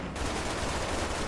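Gunshots in a video game come as a dense, continuous burst of rapid automatic fire, loud and close, across a brief moment.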